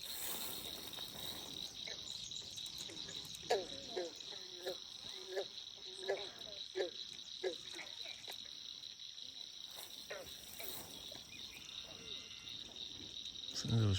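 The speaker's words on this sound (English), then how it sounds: "Some of those frogs" Frogs croak in a rapid, scattered chorus over a steady high insect drone, outdoors at night.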